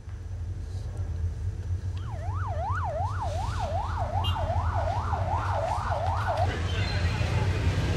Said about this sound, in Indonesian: sejumlah ambulans terus membawa korban ke beberapa rumah sakit terdekat